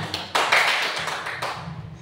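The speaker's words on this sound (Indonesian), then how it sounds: "Tepuk tangan dong." A few scattered hand claps in a classroom, sparse and uneven bursts rather than sustained applause, fairly close. No one speaks.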